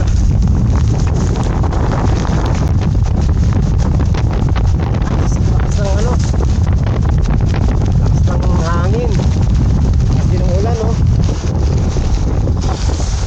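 Strong wind buffets the microphone at a Baseco fishing spot by the water in Manila, a loud, steady roar throughout, with faint voices and a few short whistling tones partly buried in the gusts.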